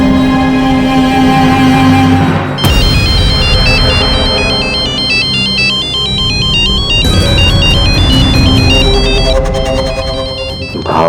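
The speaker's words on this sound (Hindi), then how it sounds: "फिर इनका फोन मुझे कैसे आ रहा है?" A phone ringtone plays loud and close, a repeating melodic electronic tune with bright chiming notes that loops several times without pause, no speech.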